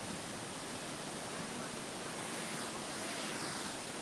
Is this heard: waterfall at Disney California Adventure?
yes